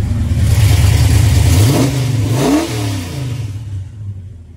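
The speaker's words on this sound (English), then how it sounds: "I want you to hear the exhaust and then hear the motor" A 1972 Chevrolet Chevelle's engine revs loudly up and back down through its exhaust, a strong sustained roar that climbs, peaks and then settles toward idle before fading out.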